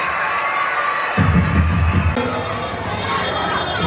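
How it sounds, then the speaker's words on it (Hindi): At a school event, a crowd of children and adults bursts into loud cheering and clapping to welcome small children, swelling suddenly after a quieter moment and then holding steady. "जोरदार तालियों से स्वागत कीजिए हमारे ऐसे छोटे बच्चों का।"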